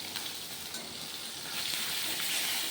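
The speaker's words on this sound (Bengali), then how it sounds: "এখন মাছগুলো ভেজে নেব ভালো করে" Koi fish frying in hot mustard oil: a dense, continuous close-up sizzle that swells slightly louder near the end, with no talking.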